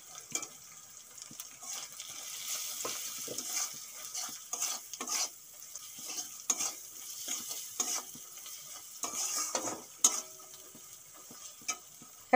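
Ground turmeric, chili, coriander, Kashmiri chili powder and salt sizzling in a pan for an egg curry, under close scraping and stirring strokes in an uneven rhythm, with no talking.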